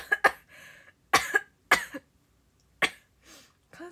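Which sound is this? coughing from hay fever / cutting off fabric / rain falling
coughing from hay fever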